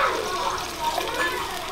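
Water pours into a pot of ojri (tripe) being cooked for a curry, a steady close gushing splash lasting under two seconds, with someone talking over it.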